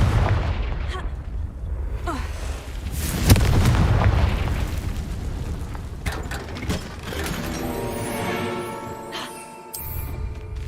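A Confringo explosion spell in the video game Hogwarts Legacy: a loud blast around three seconds among steady game sounds, followed by mechanical clanking and whirring, with no speech.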